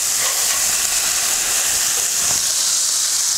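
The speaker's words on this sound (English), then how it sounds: "we're going to take these smash burgers and we're going to flip them right into the bacon fat" Smash burgers sizzle loudly in bacon fat on a Blackstone griddle, a steady, close, unbroken hiss and crackle with no talk.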